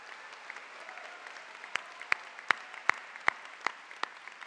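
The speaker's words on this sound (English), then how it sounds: "let's give them a huge applause" A few sharp, spaced handclaps ring out in a large hall at Chestatee High School's graduation, sparse and distinct rather than a full ovation.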